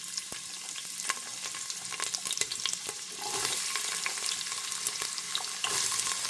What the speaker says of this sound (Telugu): ఉల్లిపాయలు, పచ్చిమిరపకాయలు వేసుకుందాం.